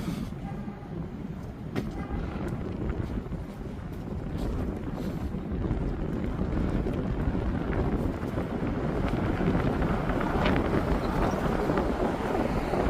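Strong wind buffets the microphone on a downtown Toronto street, a dense, steady low rumble that gradually builds louder over the whole stretch, with no one speaking.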